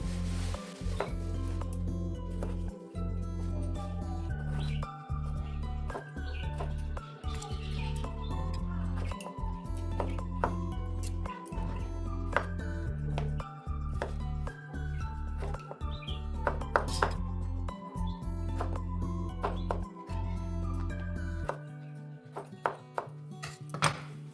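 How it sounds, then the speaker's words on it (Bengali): Potatoes are cut in a home kitchen, with a long run of irregular knife chops and thunks on a board over a steady low hum, plus faint clinks and chirps. "তো ওলকপিটা কেটে নিয়েছি এবারে আলুগুলো কেটে নেব"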